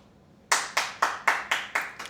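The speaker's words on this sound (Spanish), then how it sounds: "Aplausos, aplausos, aplausos, aplausos, aplausos" Six slow, evenly spaced hand claps ring out close and crisp after half a second of quiet, each one sharp and decaying.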